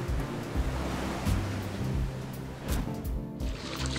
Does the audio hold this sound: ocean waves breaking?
yes